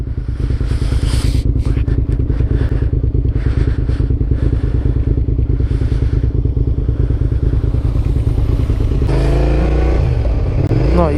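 A motorcycle, apparently a Yamaha FJR tourer, runs close by with a loud, steady engine drone throughout, shifting to a louder rumble near the end as it passes; no talk is heard.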